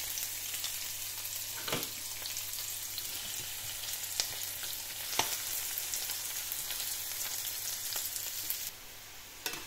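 Onions sizzle in a hot pan with a dense, steady frying hiss, marked by occasional crackles and pops, close and continuous, with no talking.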